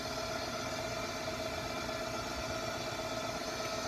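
A Levin watchmaker's instrument lathe spinning at higher RPM, a steady, even hum with a faint high whine, constant and unchanging, quiet and smooth with no voices.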